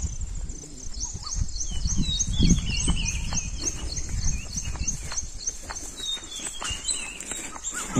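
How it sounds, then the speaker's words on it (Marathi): Birds keep calling and chirping high and steady in a mango orchard, while footsteps and low rustling sounds come from someone walking barefoot close by. "हे जे पक्ष्यांचे आवाज येतात मित्रांनो ते"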